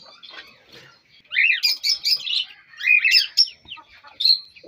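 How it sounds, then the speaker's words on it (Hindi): Pet birds kept at home, including cockatiels and lovebirds, chirp and tweet in quick, bright bursts. A faint start builds into lively, overlapping calls that come in close, clustered phrases with brief pauses between them. "और इनकी जो चहचहाहट है, चहचहाते हैं जब ये बहुत प्यारी प्यारी सी आवाज़ में"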